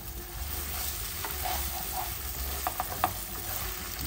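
Spaghetti all'assassina fries in a spicy tomato sauce in a pan, giving a steady close sizzle with light scraping and stirring clicks near the end and no voices.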